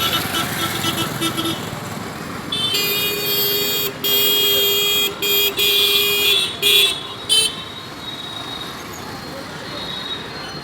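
Busy roadside traffic with engines and road noise throughout, broken by a run of long and short car horn blasts in the middle, close and loud, while a voice speaks faintly now and then.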